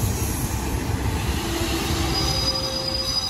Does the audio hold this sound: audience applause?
no